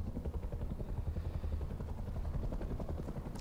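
A helicopter flies overhead in the video game Rust, a steady, loud, close rotor thump with a low engine drone throughout.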